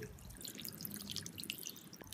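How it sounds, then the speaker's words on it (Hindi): Lukewarm water poured over raw chicken, a faint, steady patter of dripping and splashing water with no voices. "यहाँ मैंने लिया नीम गर्म पानी, मैं इसमें डाल दूंगी।"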